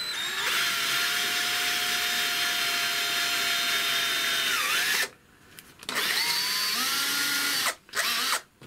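A power drill whines steadily as it bores a pilot hole through FR4 G10 laminate sheet into a sacrificial board. Its pitch shifts as it works, and it stops and restarts twice with short pauses between runs.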